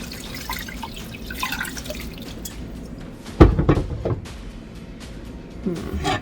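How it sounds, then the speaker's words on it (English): Water poured into a pot of rendering tallow, with a brief splashing pour in the middle after faint kitchen drips and clatter, followed by quieter trickling. "Putting some water in."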